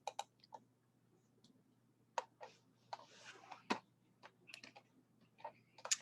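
Computer mouse clicks heard up close and fairly quiet, scattered in irregular single and double taps across a hushed room.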